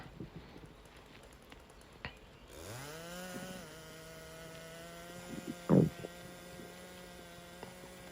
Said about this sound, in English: Just letting the saw do the work.